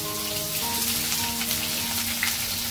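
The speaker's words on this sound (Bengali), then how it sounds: "এগুলো এখন ভালো করে ভেজে নিতে হবে, পেঁয়াজটা বাদামি হওয়া পর্যন্ত ভালো করে ভেজে নিব।" Dried chillies and onions fry steadily in hot oil, giving a continuous close-up sizzle and crackle with scattered pops and no talking throughout.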